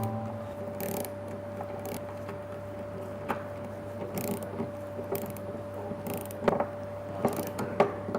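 Mechanical clicking and ratcheting from tightening the clamp bolts of an electrolyzer cell in a laboratory, repeated soft clicks and a few sharper knocks over a steady low hum, with no talking.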